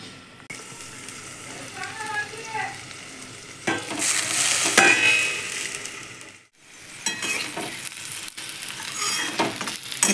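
Stuffed okra coated in spice masala frying on a very low gas flame, giving a steady soft sizzle with intermittent stirring and scraping in the pan and a few brief clinks.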